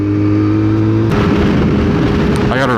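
A sport motorcycle engine revs loudly while being ridden, first holding a steady drone, then surging into rough, rising acceleration with a climbing whine near the end.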